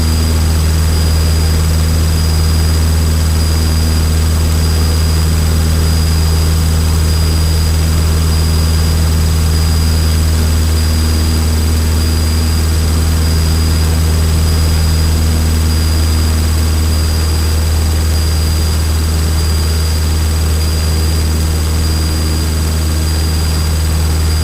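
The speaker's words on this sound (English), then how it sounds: "Make sure you have full power all the way for the climb." A Cessna 152 engine runs at full power during the climb, a loud, steady, unbroken propeller drone with a deep hum, heard close from inside the cabin with no talk.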